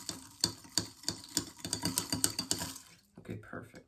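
Drink-mix packets are stirred into slushy ice in a container for Star Wars blue milk, giving a rhythmic run of close scraping and clinking strokes that ends in quieter rustling.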